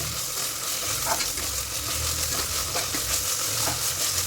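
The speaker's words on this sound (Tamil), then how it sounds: "இஞ்சி பூண்டு 2 ஸ்பூன் போட்டு அதை லேசாக வதக்கின பிறகு" Steady sizzling of ginger garlic paste sautéing in a pan for mutton biryani, with occasional stirring scrapes, continuous and close throughout.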